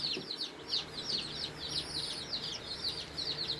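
Black Australorp baby chicks from Meyer Hatchery peep steadily, a lively chorus of high, rapid chirps repeating close by without pause.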